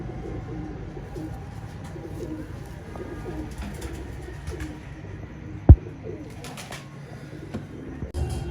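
Pigeons kept for pigeon flying in Sahiwal coo steadily in soft, repeated low rolling calls throughout, with a single sharp knock midway and faint background noise.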